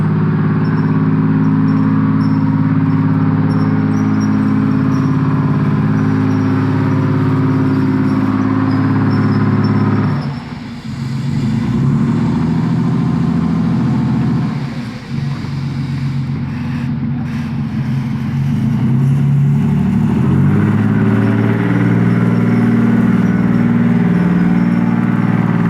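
Working military tank engines run nearby with a loud, deep, continuous drone, briefly dipping twice before revving back up, with no voices over the noise.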